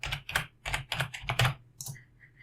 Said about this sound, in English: So now I can just type pricing here.